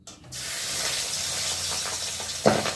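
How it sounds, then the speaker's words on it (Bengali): Pabda fish sizzling steadily in hot oil in a home kitchen, a loud continuous hiss after a brief quiet start, with a sharper spitting pop near the end. "মাছটা দেওয়ার সঙ্গে সঙ্গে ফুটতে শুরু করে দিয়েছে"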